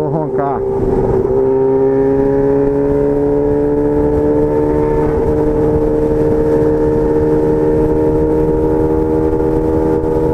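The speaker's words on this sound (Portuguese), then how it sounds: "Ver o motor roncar." Honda CB1000 motorcycle engine revving on a hilly, curvy road, a sharp rev at the start rising into a sustained droning note that climbs slightly and holds steady, loud and close, with wind and riding noise underneath.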